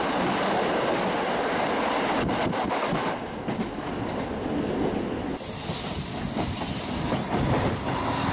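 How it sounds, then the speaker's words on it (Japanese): A train on the Sekisho Line in Hokkaido runs through a snow shelter, its steady rolling rumble and wheel noise continuous and close, the sound abruptly brightening and growing louder partway through as the enclosure changes. "石勝線名物ともいえるスノーシェルターを通過して、列車は追分に到着します。"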